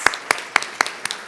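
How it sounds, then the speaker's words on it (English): A few scattered, slow claps from a small audience at a community gathering honouring Pedro Pans, distinct single hand claps spaced irregularly, fairly close and moderately soft. "I really want to give you an applause"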